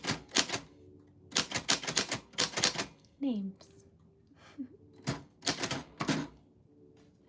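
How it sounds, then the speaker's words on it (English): A manual typewriter clatters in bursts of rapid keystrokes with pauses between runs, close and fairly loud, alternating with a person talking. "Today we are doing typewriter typing"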